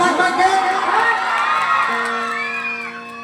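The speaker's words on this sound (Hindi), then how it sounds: "तनी हेने के भाई लोग तनी वो हाला करके ताली बजावा" Crowd at a stage show in Barun, Bihar, cheering and shouting loudly with whoops, then settling as a sustained musical tone rises beneath; a voice is also present.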